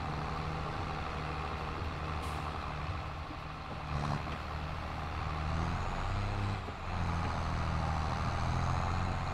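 Heavy farm tractor in Farming Simulator 22 driving in reverse while raking hay into windrows on a hillside, a steady loud engine drone with a low hum, continuous and close, briefly dipping near the end.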